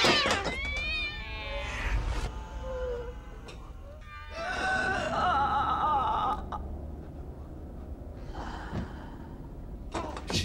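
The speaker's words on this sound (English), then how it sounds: "Oh no! Not a cat!" A cat meows and yowls in the horror film The Grudge, several drawn-out, wavering cries with pauses between them, fairly close and clear over a quiet background with faint breathy sounds.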